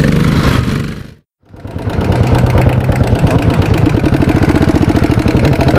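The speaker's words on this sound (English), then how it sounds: "Rolling through on the most rattly bike I've ever ridden." Very rattly motorcycle engine running loud and close, with a steady clattering mechanical rumble that briefly drops out, then returns at an even idle-like pace, with no voices over it.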